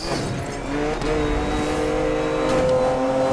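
A Lamborghini Countach in Need for Speed: Most Wanted revs hard under acceleration, its engine note climbing in steady rising tones through short gear changes, loud and close throughout.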